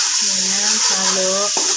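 Pechay and other vegetables sizzle in a pan as they are stirred with tomato paste, a steady close frying hiss with a voice sounding briefly over it.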